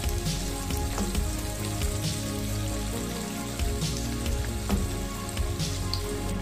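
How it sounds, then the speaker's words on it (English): Beef and onions frying in vegetable oil in a hot pan, a steady close crackle and sizzle with faint scraping as the mix is stirred, and no voices over it. "I will add some onions to the beef and give it a stir."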